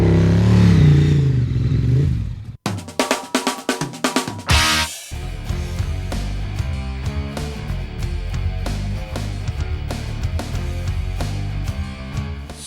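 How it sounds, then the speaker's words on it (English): A Ducati motorcycle fires up close by with clattering bursts of revving, then settles into a steady, loud engine note as it pulls away. "Jeff says goodbye by the means of a Ducati."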